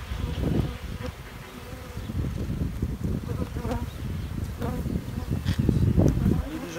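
Honeybees swarm and buzz around an open beehive as a super is added for a honey harvest, a dense continuous drone with individual bees passing close and rising louder near the end, faint rustling beneath.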